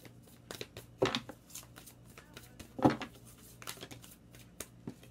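A Moonology oracle card deck is shuffled quietly up close, with soft papery riffles and slides and two sharper, louder shuffle bursts against a faint background.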